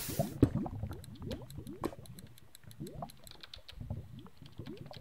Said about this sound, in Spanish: un mini chapoteadero de lava.